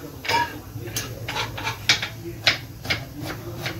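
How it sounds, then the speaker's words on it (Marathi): Knife chopping onions on a board for misal, a run of quick sharp taps at an uneven pace, close and moderately loud over a low household background. "इथे जे वहिनी आहे ती कांदा कापते आहे"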